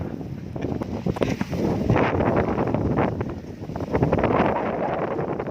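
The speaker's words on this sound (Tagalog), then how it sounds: "Laki ng hangin, no?" Strong wind outdoors at harvest time buffets the microphone in loud, rumbling gusts that swell and ease, with a faint rustle underneath and no talking.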